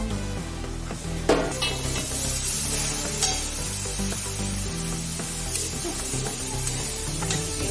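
Grated carrots for gajar halwa being stirred in a pan, a steady soft sizzle and scraping with a few sharper clatters of the spoon against the pan, close and continuous without any voices.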